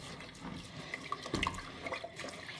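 Cold water poured from a tap onto crushed green olives in a home kitchen, a steady running splash with brief louder gurgles partway through, fairly close and alone without talk.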